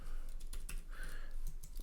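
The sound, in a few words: typing on a computer keyboard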